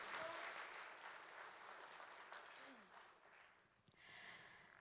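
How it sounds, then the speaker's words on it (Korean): Audience applause welcoming a guest at a Democratic Party joint candidate speech event in Sunchang, a dense steady patter of many hands that slowly fades, followed by a brief final burst of clapping near the end. "환영의 박수 부탁드리겠습니다"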